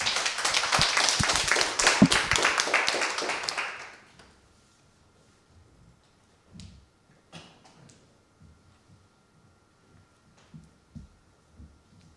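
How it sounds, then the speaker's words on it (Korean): Students in a school presentation hall applaud loudly and densely for about four seconds, then the clapping dies away into near silence broken by a few faint taps and thumps. "마지막인 만큼 박수 부탁드리겠습니다."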